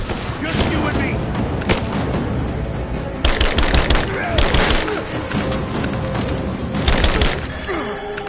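Heavy gunfire in a Tomb Raider shooter, bursts of automatic fire and booming impacts running the whole time, loud and dense, with shouted in-game voices mixed in.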